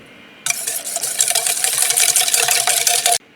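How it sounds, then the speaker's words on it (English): Brisk whisking of a sugar, kosher salt and celery seed dressing in a bowl, a close, steady scratchy rattle lasting a few seconds, starting and stopping abruptly. "I'm gonna whisk this together."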